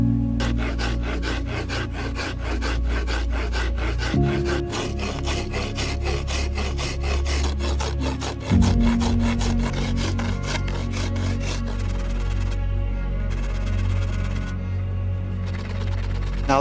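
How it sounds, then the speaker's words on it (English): A file shapes a wooden bow limb made from hardware store materials, a close, rhythmic rasping scrape in repeated back-and-forth strokes that continue steadily, with shifts in tone as the stroke changes. "Then I very carefully take the ridge off, making sure that I never touch the file to the far side of the limb"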